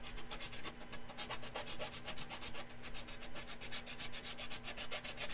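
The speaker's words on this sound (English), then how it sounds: "Ooh, sandpaper falling apart." Sandpaper that is falling apart is rubbed in quick, even back-and-forth strokes during a glass construction build, giving a close, continuous rasping scratch with a steady rhythm and no talking.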